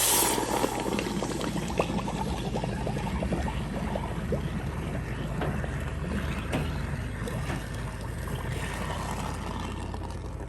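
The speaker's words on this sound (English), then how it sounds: "So what we're gonna do is we're gonna quench it here" Red-hot gold casting flask plunged into water, giving a continuous loud, dense sizzle and bubbling that stays steady throughout with no talk.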